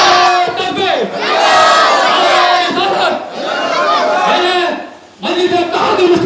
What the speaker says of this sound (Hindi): दोनों हाथ उठाकर नारा लगाइए मेरे भाइयों